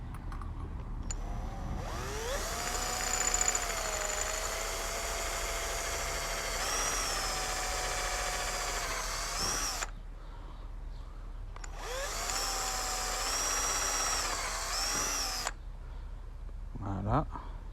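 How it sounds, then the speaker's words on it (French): An electric drill bores a pilot hole in a headphone shell in two separate bursts, each a close whining motor spin-up that holds steady for several seconds, with quiet handling noise between. "Et je perce"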